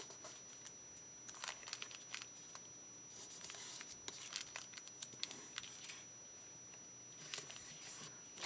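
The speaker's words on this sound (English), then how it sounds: "This might be harder to tear. It's thinner." Thin scrap paper being torn by hand for a journaling project, with bursts of crisp ripping and crinkling in uneven spurts. The sounds are close and quiet against a soft background, with no talking.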